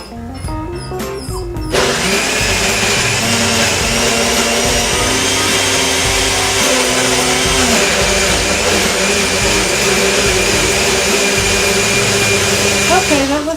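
A countertop blender whirs a green smoothie, starting abruptly after a brief clatter of loading and then running at a loud, steady high-speed drone for over ten seconds, with faint talk over it.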